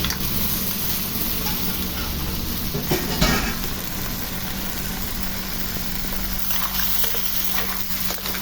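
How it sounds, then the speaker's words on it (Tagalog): Mussels go into a pot of simmering tinola broth with ginger and peppercorns, a steady bubbling sizzle broken by a brief clatter of shells, with no voices. "And then, ilagay na natin ang tahong."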